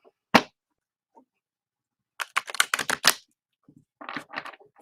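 A deck of cards being shuffled: a single sharp snap, then a quick rapid flurry of riffling clicks, and a softer, shorter riffle a moment later, close and dry.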